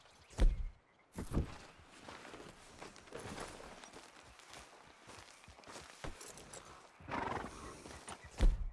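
A horse in the Red Dead Redemption 2 video game snorts and neighs between stretches of hooves walking and clopping on the ground, with loud whinnies near the start and end and no talking.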